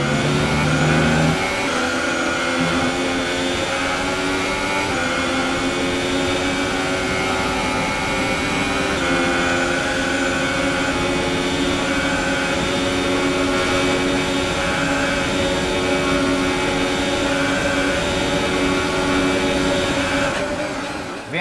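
Formula 1 car engines roaring in the F1 2018 racing game at the Belgian circuit, a continuous high-pitched whine that rises and shifts steadily through gear changes, loud and unbroken.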